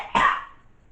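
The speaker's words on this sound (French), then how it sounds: "Ça fait tousser." A single short, sharp cough bursts out, then quickly fades into quiet.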